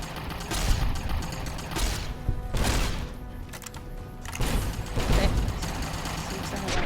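A laser rifle fires in Fallout New Vegas as a few sharp, punchy bursts spaced a second or two apart, fairly loud over busy combat noise.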